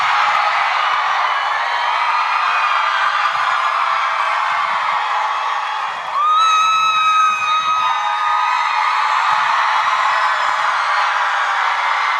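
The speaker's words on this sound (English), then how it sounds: "I honestly don't think I've ever seen a crowd this excited" An excited convention crowd cheers for Helluva Boss voice actors at FanX 2025 in Salt Lake: a dense, continuous roar of screams and cheering that swells and stays loud throughout, with a brief whistle-like squeal partway through.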